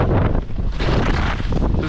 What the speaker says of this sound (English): Very windy day, as you can see here at the top.